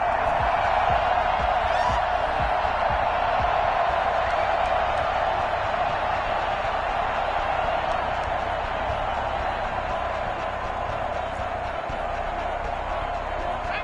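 Stadium crowd in a Madden football video game roars and cheers steadily after the home side holds on the opening drive, a dense, sustained wash of noise with no voices over it.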